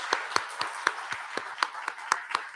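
Church congregation clapping together during a Sunday morning service, a steady run of sharp, evenly spaced claps over about two and a half seconds.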